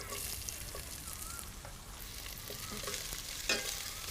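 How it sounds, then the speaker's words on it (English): Onions sauteing in a pan for Mangalorean Pulimunchi, with green chilies and ginger, giving a soft, steady sizzle and a few light stirring clicks, faint and alone. "saute the onions lightly until they are soft and very lightly colored"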